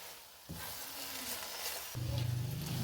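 Khoya roasting in ghee for carrot halwa, a steady soft sizzle with light stirring scrapes, close and quiet, growing a little louder toward the end.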